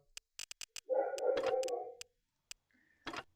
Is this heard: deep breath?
no